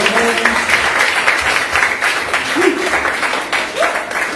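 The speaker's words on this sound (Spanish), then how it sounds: "Un aplauso" Church congregation at a Spanish-language sermon claps loudly and continuously, a dense wash of applause with a few faint voices mixed in.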